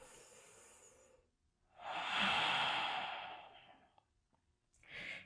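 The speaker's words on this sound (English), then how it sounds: "Take a big breath in and out." One person takes a deep, slow breath in and out during a gentle yoga stretch: a soft airy inhale, a pause, then a longer, louder hissing exhale, with a short breath following.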